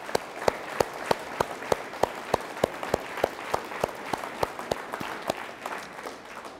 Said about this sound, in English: I'd like to give Randy a big round of applause